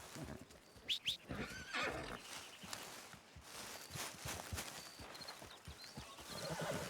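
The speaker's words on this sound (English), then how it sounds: "Might as well call my horse if I can." A horse in the video game Red Dead Redemption 2 whinnies twice near the start, followed by steady hoof clip-clops and footsteps walking close by, with no talking.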